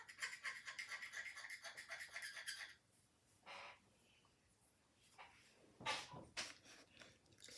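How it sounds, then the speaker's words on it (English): Grime scraped off a 1950s RCA portable transistor radio, a fast rhythmic series of scratchy strokes up close, then a pause and a few separate louder scrapes. "the scraping technique is working pretty well"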